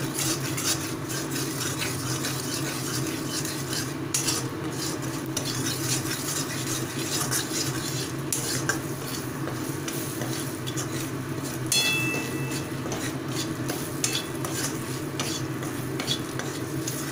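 Ground spices of turmeric, Kashmiri chilli, hot chilli, cumin and coriander being stirred and fried for eggplant mince, a steady close sizzle under continuous spatula scraping with occasional clinks.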